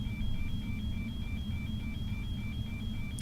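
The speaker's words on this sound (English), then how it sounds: "Is the battery discharge alarm?" An aircraft's battery discharge alarm beeps in a steady, regular series of short high tones, moderately loud over a low cockpit hum.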